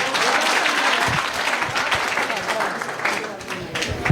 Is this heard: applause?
yes